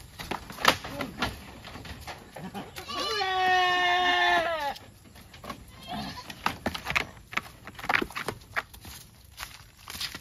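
Goats on a farm, including a mother nanny goat, let out a loud drawn-out bleat near the microphone, with shorter bleats, footsteps and thumps around it.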